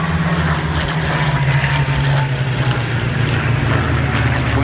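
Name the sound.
Messerschmitt Bf 109G aircraft engine at air show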